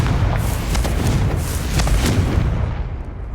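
Confringo spell blast in Hogwarts Legacy, a heavy, booming explosion with a deep rumbling tail and a few crackling bursts, loud and close before fading.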